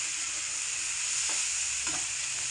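Jackfruit seeds frying with chili powder in a pan give a constant dense hiss, close and even, with a couple of soft stirring scrapes and no speech.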